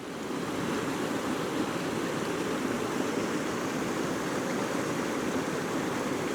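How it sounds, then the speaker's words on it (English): A small waterfall on a snowmelt stream in the Glencoe valley rushes in a constant, full roar close at hand, unchanging throughout with no voices. "I'm right next to quite a big little waterfall here."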